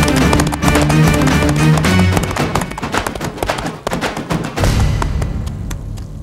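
Horse hooves clip-clop steadily as a horse-drawn cart draws near, loud and close, with a dense busy backdrop and a brief lull before the rhythmic hoofbeats resume.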